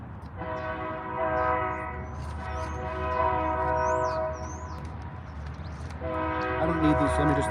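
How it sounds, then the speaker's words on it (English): A train passes by with its horn sounding in long, loud, sustained blasts, the first stretching over several seconds and another starting near the end, above a rumbling rail background with some birdsong. "I'm not gonna be able to talk over that train"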